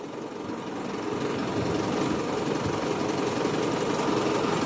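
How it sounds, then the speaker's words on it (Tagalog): A freezer van's engine idling, a steady, close mechanical drone with a dense rumbling texture that holds even throughout, without speech. "Tahimik pa makina."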